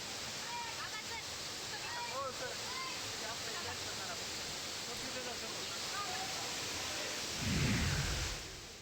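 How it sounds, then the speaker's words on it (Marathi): Steady, dense rushing of the Ramling waterfall in heavy monsoon flow fills the whole clip, a broad roar with a heavier low surge near the end. "रामलिंग धबधबा ओसंडून वाहताना दिसतो"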